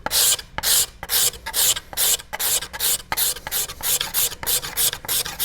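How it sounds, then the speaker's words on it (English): A cabinet scraper rasps over bamboo on an all-wood takedown bow in quick, rhythmic strokes, about a dozen loud scraping pulls close by, with no voices. "What's happening is the cabinet scraper is touching on both sides, but not the middle yet. But it's a great way to remove the bamboo evenly."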